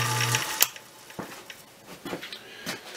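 Steady mechanical whir and hum of an Emco Compact 5 lathe running during thread cutting, with a few brief clicks and clunks over the continuous machine noise, close and moderately loud.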